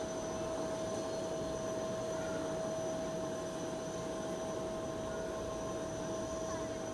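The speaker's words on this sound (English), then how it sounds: "Now this is an aircraft type we don't see in New Zealand very much, the regional jets. They're run by Ibex" An Ibex regional jet at Fukuoka International Airport, heard as a steady, faint, distant jet whine and broadband roar that holds evenly throughout, with no talk.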